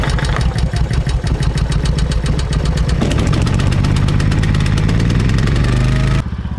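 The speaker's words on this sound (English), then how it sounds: "we're gonna plug this in to our generator. But first we gotta start it." Portable generator engine at a small cabin building site, a loud, close, rapid mechanical chugging that runs steadily and shifts to a deeper, smoother running tone midway before cutting off near the end.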